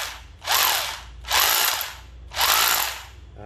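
A Hitachi 18V cordless hammer drill runs in hammer mode in three short bursts about a second apart, each a harsh rattling whine with a rising pitch and a quiet gap between bursts.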